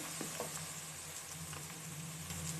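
Onions fry with green coriander and green chillies in a pan, giving a soft, steady sizzle with faint stirring taps, quiet and close.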